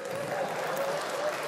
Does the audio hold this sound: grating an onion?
no